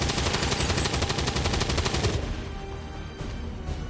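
Rapid sustained gunfire in XCOM 2, a loud close machine-gun burst of evenly spaced shots for about two seconds, then fading into quieter echoing reports and ambient noise.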